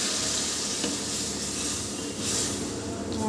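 Onions and spices sizzling in hot oil left from frying fish, a steady, bright hiss that crackles evenly throughout with no talk over it.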